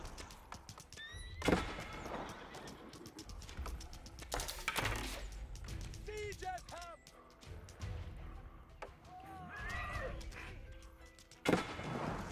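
Horses neigh and whinny several times over a busy mix of clicks and thuds, with hooves clip-clopping, fairly faint and layered like game sound effects, from Age of Empires IV.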